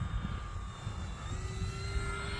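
An E-flite F4U-4 Corsair RC airplane on a 4S 2200mAh battery drones steadily overhead with a whining electric motor and propeller, its pitch gliding slightly, under constant outdoor wind noise.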